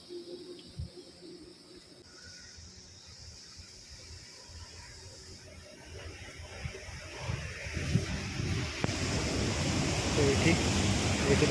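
Falling water makes a broad, hissing rush that starts faint and swells louder through the second half, with birds chirping and people talking in the background.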